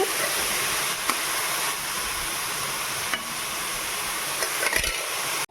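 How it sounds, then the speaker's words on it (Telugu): Green chilies and onion pieces frying in a cup of oil for chilli chicken, a loud, dense, continuous sizzle with occasional soft stirring knocks, no voices. "పచ్చిమిర్చి చీరుకులు, ఉల్లిపాయ ముక్కలు బాగా ఫ్రై అవ్వాలండి."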